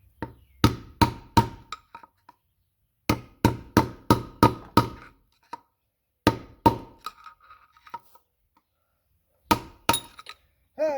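A solid blade screwdriver hammered against a trailer wheel bearing to knock it out, sharp metallic clanks in quick bursts of three to five blows separated by short pauses, loud and close, with no talking.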